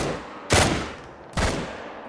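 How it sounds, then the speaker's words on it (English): Two loud gunshots from a hunting video game, spaced a little under a second apart, each a sharp close blast with a short ringing tail over a steady background hum. "I missed the first shot and I nailed the second one"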